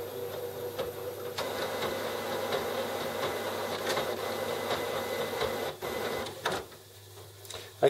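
Epson WF-7210 inkjet printer preparing its ink system, a steady mechanical whir with regular faint ticks and clicks, dropping off near the end before a final sharp click.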